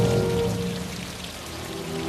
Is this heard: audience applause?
no